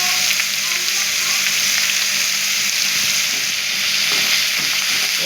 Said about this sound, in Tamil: நல்லா காய் சுருண்டு வதங்கணும்.